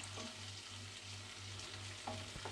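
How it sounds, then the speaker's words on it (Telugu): Green chilies and garlic with cumin fry in hot oil for a fish fry, a faint continuous sizzle with a low steady hum beneath and a couple of light stirring knocks near the end. "వేసేసుకొని బాగా కొద్దిగా ఫ్రై చేసుకుందాం."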